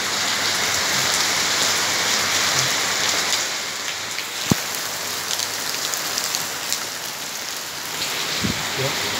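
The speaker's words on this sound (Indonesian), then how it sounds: "karena hujan di Bali ini, ya, hujan membawa berkat" Steady rain falls in Bali, a dense continuous hiss of drops on surfaces throughout, with a sharp tap near the middle and a faint voice murmuring in the background.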